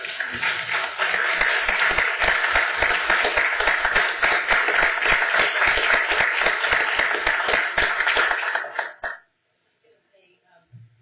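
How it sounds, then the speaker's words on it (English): At a county board public meeting, a room of attendees applauds two honorees in steady, dense clapping for about nine seconds, then stops abruptly into near silence. "we're going to give you a round of applause for both of you"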